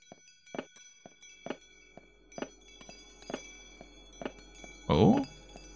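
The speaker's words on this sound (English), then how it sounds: "I'm just following the chimes, really." Chimes ring in the horror game Rental, a sequence of evenly spaced metallic bell strikes with lingering tones, each fairly faint, followed by a short louder burst near the end.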